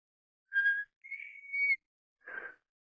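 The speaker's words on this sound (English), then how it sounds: "Oh, shucks, I never could whistle." Someone tries to whistle in a radio drama, producing three short, breathy whistled notes, the middle one wavering and longer, alone and fairly close.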